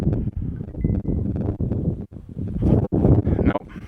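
Wind blowing outdoors on a disc golf course at a park buffets the microphone in uneven gusts, rough and close, with a couple of brief lulls.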